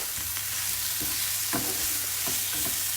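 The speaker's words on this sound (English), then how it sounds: "So wait for that to get nice and sizzling hot." Steady sizzling hiss from a hot pan of frittata eggs with occasional soft pops and clinks, close by and fairly loud, no voices.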